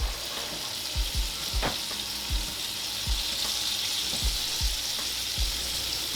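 Steady sizzle of liver frying in a cast iron skillet, with soft clinks and scrapes of a utensil every second or so, no talking.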